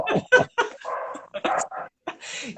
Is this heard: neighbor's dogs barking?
yes